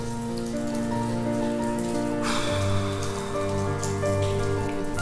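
Rain falling at night, a dense steady patter of drops on a surface, close and continuous, with a faint tonal hum underneath and no voices.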